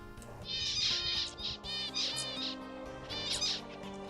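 Several zebra finches chirp and call in quick bursts, bright and fairly close, overlapping in a busy chatter with a faint hum beneath, as flocks fly in and out of a tree near water.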